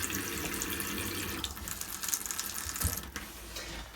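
Water runs continuously from a pull-out vanity tap doubling as a shower in a Europa 390 motorhome washroom, a steady hiss with small clicks and handling knocks, no talking.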